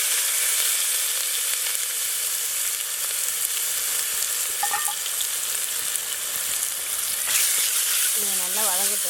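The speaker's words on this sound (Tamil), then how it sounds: "இதை நல்லா வதங்கட்டும்." Shallots, garlic, pepper and cumin sauté in hot sesame oil, giving a loud, steady sizzle and crackle that runs throughout, with brief faint background sounds near the end.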